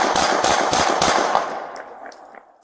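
Austin police officers fire a rapid volley of about six close, loud gunshots at a man reaching for a gun in his car, then the shots stop and a faint ringing tail fades out.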